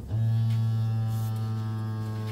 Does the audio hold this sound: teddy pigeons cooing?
no